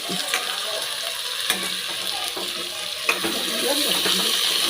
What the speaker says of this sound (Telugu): ఆనియన్స్ వేసుకోండి ఇది మంచిగా బ్రౌన్